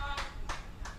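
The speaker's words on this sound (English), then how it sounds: "A crowd, a small crowd we hear, showing their support." Small crowd at a women's T20 cricket match between Guyana and Leewards, giving three short bursts of applause and cheering that rise over a steady background of crowd noise.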